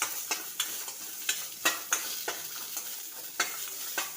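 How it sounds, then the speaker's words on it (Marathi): Sliced onion and fresh grated coconut roasting in a pan for a modak vada curry, stirred with a spatula: a soft continuous sizzle broken by regular scraping strokes about every third of a second, close and alone. "मी आता व्यवस्थित भाजून घेते कांदा, ओला नारळ"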